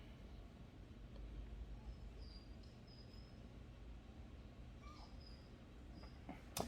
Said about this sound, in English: the people next door must have their dog out